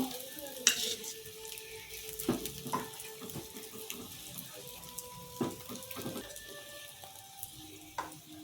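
Egg paratha dipped in batter frying in oil in a home kitchen, a quiet, steady sizzle with scattered clinks and scrapes of a utensil over low background noise.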